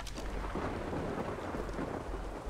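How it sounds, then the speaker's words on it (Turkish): Thunder and rain in the video game ARK Survival Evolved, a continuous low rumble blended with a steady hiss of rainfall, fairly quiet and unbroken throughout. "Yağmur da başladı."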